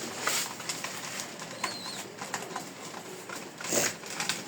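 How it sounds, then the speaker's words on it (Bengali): Pigeons coo softly nearby while feeding, with a few low, faint coos and light rustling and pecking scattered through a quiet background. "এই যে সব কবুতরগুলো খাচ্ছে।"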